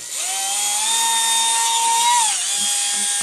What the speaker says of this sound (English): I'm going to clamp this in there just like that to hold it, and go in with my Dremel